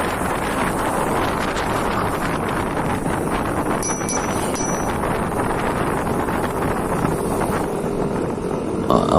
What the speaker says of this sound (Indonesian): Wow, anginnya, terasa anginnya.